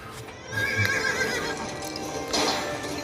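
A horse in an animated series whinnies loudly and close, a bright shrill neigh rising twice over a bed of hoofbeat clip-clops, with no speech.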